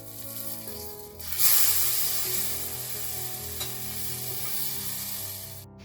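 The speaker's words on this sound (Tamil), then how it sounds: "இப்போ நான் இந்த ப்ளூபெர்ரி பேன்கேக்கை ஃப்ளிப் பண்ண போறேன்." A buttermilk blueberry pancake is flipped in a hot pan; the sizzle surges loudly right after the turn, then settles into a continuous frying hiss.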